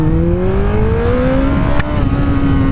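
A Kawasaki ZX-14R sport motorcycle roars loudly and close as it accelerates from 0 to 60 mph, the engine pitch climbing steadily, dipping briefly at a gear change and then rising again.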